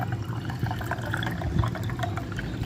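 Water pours into homemade peach squash juice in a kitchen, a steady close gurgling stream that runs without a break and without speech.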